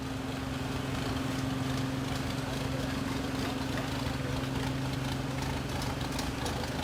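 A 1936 IHC F20 tractor drives past in a parade, a steady low engine drone with a rumbling hum held throughout, with faint crowd or background noise over it.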